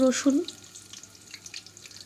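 Garlic frying in oil in a pot makes a soft, close sizzle. A short voiced sound at the start gives way to faint crackling.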